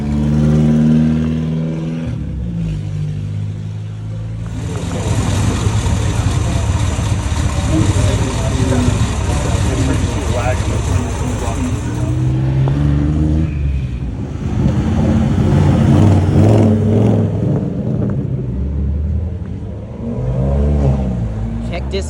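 Mercedes SLR McLaren supercar pulling in at an outdoor car show, a steady engine rumble with revs rising and falling over a crowd, people talking throughout.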